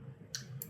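A couple of faint, sharp computer mouse clicks a moment apart, set against a quiet background with no one talking.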